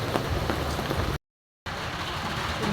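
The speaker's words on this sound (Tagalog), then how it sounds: "Sige pa rin ang ulan dito sa bundok" Steady rain falling on a mountain pattering on a surface, broadband and continuous, broken once by a brief total silence before the downpour resumes.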